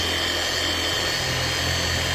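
A power polisher with a soft pad buffs a car headlight during restoration, giving a steady, close, continuous whirring drone with no talk over it.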